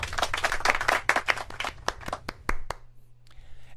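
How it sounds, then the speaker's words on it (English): A brief burst of hand clapping from a small group, tapering into a few scattered claps before stopping. "Let's get a round of applause for AOC and Queen."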